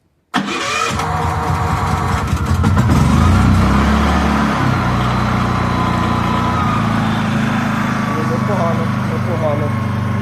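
An inverter generator engine starts abruptly with a sharp clatter, then settles into a steady close-up mid-pitched running drone that continues to the end, with brief speech over it.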